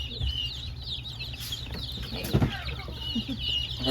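Black Mystic Onyx chickens cluck and murmur softly in a steady background chorus, with a few scattered louder clucks and some rustling nearby.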